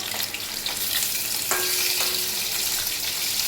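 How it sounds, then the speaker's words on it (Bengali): Three pieces of fish fry in hot oil, a steady close sizzle with a couple of brief clinks around the middle, no talking. "3 পিস মাছ ভেজে নেবো।"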